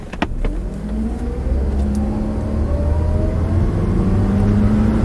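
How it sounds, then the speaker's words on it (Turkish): A Mercedes C180 Kompressor W204, 1.6-litre supercharged, revs hard under full throttle, with a steady supercharger whine climbing slowly in pitch above the engine roar. "Hafiften bir kompresör sesi gelecek"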